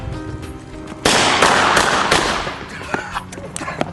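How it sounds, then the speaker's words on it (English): A CS blank-firing replica gun discharges once with a sharp loud blast, followed by a broad hissing rush that fades over a couple of seconds. Faint clicks come after. "You're going to hear and feel the effects of this weapon as it's being discharged."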